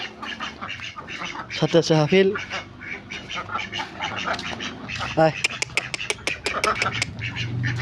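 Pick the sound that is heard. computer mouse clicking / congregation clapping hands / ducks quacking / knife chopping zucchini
ducks quacking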